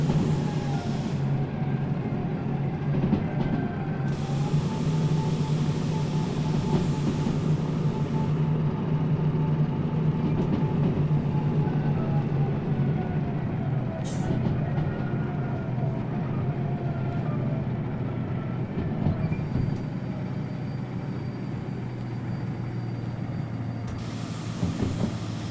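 Video game train speeding along rails, a continuous loud rumbling drone with steady rolling rail noise and occasional higher tones, sustained throughout with no talking.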